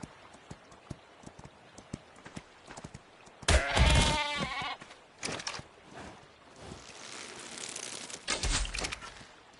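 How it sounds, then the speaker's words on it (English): Sheep bleating in the video game Jurassic Ark: World Evolved, a loud wavering bleat standing out briefly among game sounds, with quieter clopping and shuffling before and after. "So there's a sheep."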